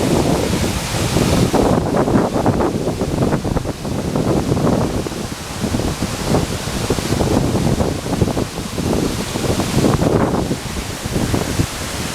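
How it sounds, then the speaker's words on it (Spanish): Heavy water spray and roaring falling water at El Limón waterfall in the Dominican Republic, with a loud, constant rushing wash mixed with wind buffeting the microphone, and no speech. "No llueve, es el agua de la cascada."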